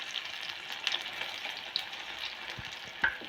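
Cut green chillies sizzle in oil over a medium flame, a steady soft frying crackle with occasional sharper pops, close and without talk.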